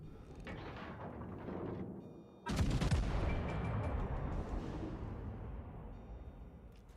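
Kongo battleship main guns firing in World of Warships: Legends, a sudden heavy boom followed by a long rumbling roar, while people talk faintly underneath.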